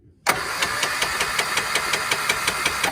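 A 1973 Triumph Spitfire 1500 engine cranks steadily on the starter with a dead number 3 cylinder, giving a loud, close, rhythmic chugging with regular pulses and no catch, preceded by a brief moment of quiet.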